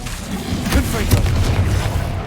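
A fiery blast-curse spell detonates in a Harry Potter video game, a loud booming explosion with a sharp burst near the middle, layered over continuous rumbling game effects and a background voice.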